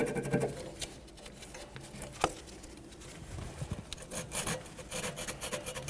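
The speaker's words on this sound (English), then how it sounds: "Clean and inspect your sway bar and the mounting point on your knuckle." Scrubbing cleans the rear sway bar and the knuckle mounting point on a 2013-2015 Chevrolet Malibu: close, uneven rasping and rubbing strokes with a sharp tap partway through.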